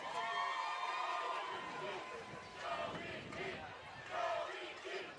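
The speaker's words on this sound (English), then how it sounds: "The crowd, the Red Sea is yelling Joey G." A home football crowd in the stands yells and cheers, the massed voices swelling in loud bursts and then easing off.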